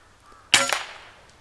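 A single sharp rifle shot fired at a squirrel during a squirrel hunt: one loud, abrupt crack that rings and fades over about half a second, followed by quiet.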